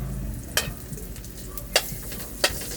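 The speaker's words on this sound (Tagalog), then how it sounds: "Gigisa muna natin yung bawang at saka loya." Garlic and ginger sauté in hot oil in a pan for an Ilocano dinengdeng vegetable dish, a steady close sizzle broken by three sharp scrapes of a spatula stirring, with no talking.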